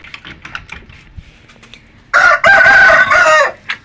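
A rooster crows loudly and close by after quieter clucking and small scratchy sounds from chickens.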